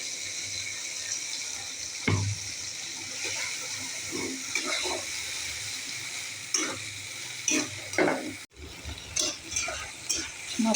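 Ginger, cumin, coriander and dry chilli paste sizzling in a pan over lightly fried tomato for a potato-paneer curry, a moderate hiss broken by repeated scraping stirs and clinks toward the end.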